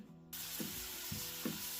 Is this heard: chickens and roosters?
no